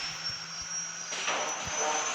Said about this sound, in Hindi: और ये हेलीकॉप्टर, अंदर बैठेंगे और स्टार्ट।